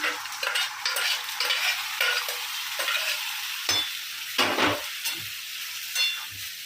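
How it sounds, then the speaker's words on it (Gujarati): Dal being stirred into a pan of frying onions while cooking palak dal, a soft steady sizzle broken by repeated spoon scrapes and stirring strokes, close and fairly quiet, with no voices. "હવે એમાં દાળ એડ કરી દઈશું."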